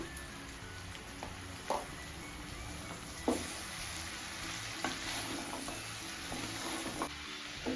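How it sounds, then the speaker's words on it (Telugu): Masala and soya meal maker chunks are stirred in a pan for pulav, making a continuous soft frying sizzle with periodic spoon scrapes and taps every second or two. "ఈ మసాలా అంతా ముక్కలు పడుతుందండి ఇలా కలపడం వల్ల."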